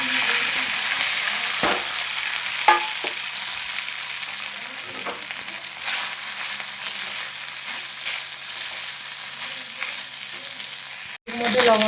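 Cooked rice sizzles in a pan with whole cumin seeds that have already been toasted, a steady close frying hiss with occasional stirring scrapes and one sharp knock near the end.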